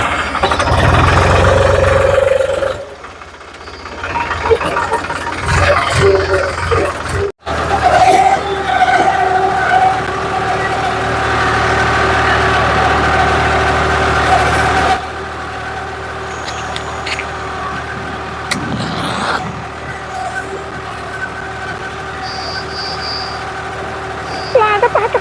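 A tractor engine runs steadily in a village setting, a continuous mid-pitched drone with a brief dropout partway through and people talking over it.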